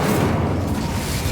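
The Incendio fire spell cast in Hogwarts Legacy, a dense, loud whooshing roar of flame with a low booming body, sustained throughout.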